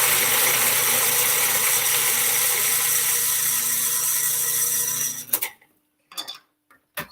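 Onion and garlic for tofu sausage get chopped in a food processor with a loud, steady motor whir and rattle lasting about five seconds. It stops abruptly, followed by a few faint clatters and handling sounds.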